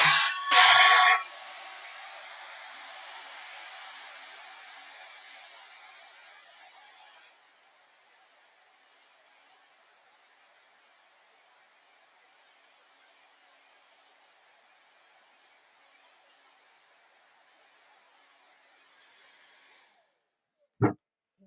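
A hair dryer blows air onto a paste-painted flower on a watering can. A loud rush opens it, then an airy whoosh gradually fades to a faint, steady hiss that cuts off near the end.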